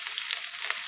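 Hot cooking oil sizzles in a pan with a brief, steady, close crackling hiss and no voices.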